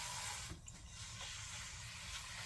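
Water pours from a hose down the moss pole of a potted plant, a steady close rush with a brief dip partway through.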